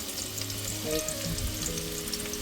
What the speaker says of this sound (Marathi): टोपामध्ये टाकते कांदा. हा, लसूण पण टाकते आता बरोबरच.